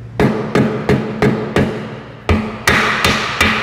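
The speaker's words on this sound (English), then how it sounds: "We'll start off with the mallet here and see if we have to get crazy." A mallet pounds a rusted-on lug nut on a Lexus car wheel, nine sharp metallic blows in a steady rhythm with a brief pause midway, close and loud with no talking.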